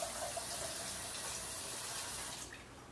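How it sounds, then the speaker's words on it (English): Water gushes steadily from a tap into a pot, a constant close-up rushing splash that tapers slightly at the end. "let's get a pot of water on"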